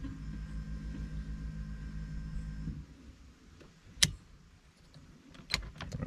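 Electric fuel pump of a project car priming before an engine start attempt, a steady low hum for nearly three seconds that cuts off, followed by quiet shop ambience with a few sharp metallic clicks and clatters.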